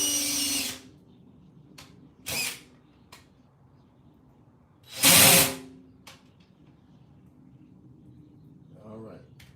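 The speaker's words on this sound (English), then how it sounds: "thicker metal, bigger drill bits, it's not just the drill bit getting hot, it's the metal getting hot too." Short bursts of a power drill boring holes in metal for mounting emblems and badges, a few brief separate whines spaced between quiet pauses, close and loud.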